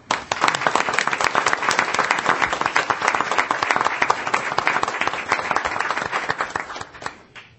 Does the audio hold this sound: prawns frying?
no